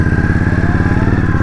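An Indian Scout Bobber motorcycle engine runs steadily and loud while riding, a close, continuous mid-pitched drone with a fast pulsing rhythm.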